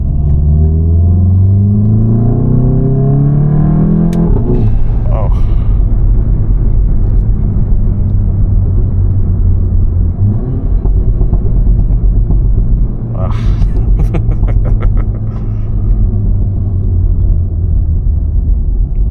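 A VW Golf 7.5 GTI at night pulls hard through the gears, its engine note rising steeply, dropping at a shift and climbing again, loud and close from inside the cabin, with someone talking at times.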